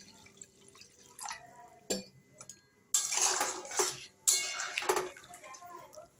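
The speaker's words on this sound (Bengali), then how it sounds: "জল দিয়ে দিলাম।" Water is splashed into a pan of spiced cauliflower roast in a home kitchen. A couple of brief utensil clinks come first, then two short, fairly close bursts of pouring and splashing, with faint drips in between.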